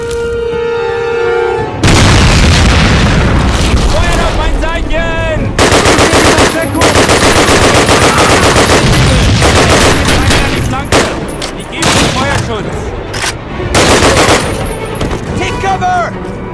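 Sustained machine-gun covering fire in the Call of Duty: United Offensive video game rattles loud and close in long bursts, mixed with heavy booms and shouted voices.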